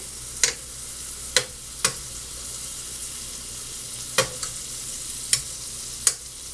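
Butter sizzling in a pan with large scallops, a steady low frying hiss punctuated by about seven sharp, isolated clicks or pops spread across the stretch, no voices.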